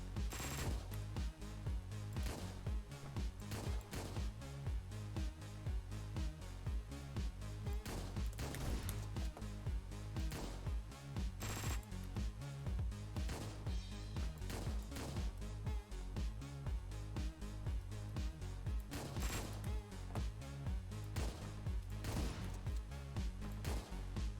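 Pistol shots in Hotline Miami 2, sharp gunfire cracks recurring irregularly through a dense, pounding electronic music track, faint against the steady loud beat.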